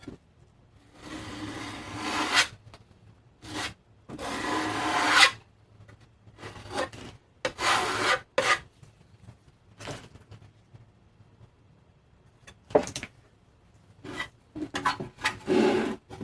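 Filler being spread in a thin coat over the back of a 3D printed droid foot, heard as close, repeated raspy scraping strokes in bursts with short pauses between them.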